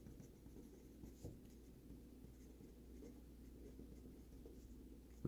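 Writing during a math lecture on asymptotes, a faint steady scratching of strokes with occasional soft taps, close and without talk.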